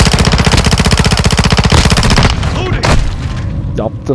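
Gunfire in the video game Modern Warfare II: a loud, rapid automatic burst of evenly spaced shots lasts about two seconds, then a few scattered impacts and effects follow. A voice speaks briefly over the end.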